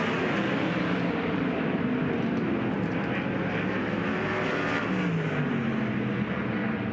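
Race cars at Port Royal Speedway, a High Limit Racing event, roar past the finish line in a dense sustained engine drone, loud and continuous with shifting pitch as the field passes, with no talk.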